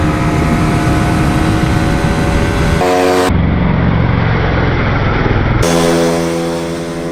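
A 2019 KTM Duke 200 motorcycle rides steadily on the road, its engine holding a loud, continuous drone near the microphone with a brief change in tone partway through and no voices.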